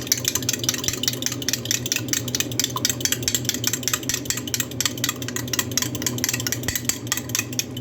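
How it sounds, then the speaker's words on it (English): Eggs being whisked in a bowl for egg flower soup make a fast, steady clatter of the whisk against the bowl, close and continuous with no talking. "Now we're going to whisk it around like this."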